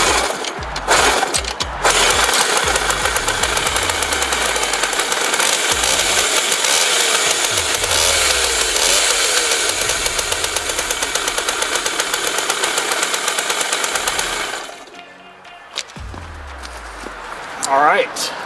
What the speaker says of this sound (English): So let's go ahead and kick start it, make sure everything's good to go.